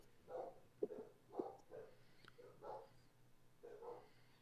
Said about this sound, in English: I can hear dogs barking